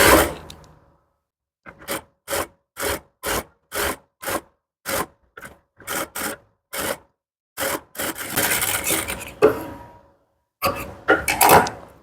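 A sewing machine stitches the neckline of a blouse, running in about a dozen short, even bursts separated by brief pauses, then a longer continuous run near the end.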